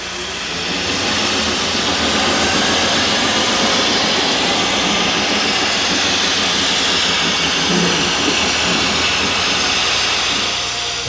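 Canadian National steam locomotive 6060, led by a piper, pulls slowly away from the shops. A loud, steady rumble and hiss holds for the full length, swelling in gradually at the start.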